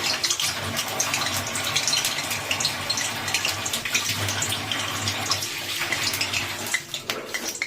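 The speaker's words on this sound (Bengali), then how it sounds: "জল পড়েছে মনে হয়, ফটফট ফটফট করে থাকছে।" Hot oil in a pan spatters and crackles after water drops into it, before frying pumpkin with spring onions. The hiss is dense and continuous, with pops scattered throughout.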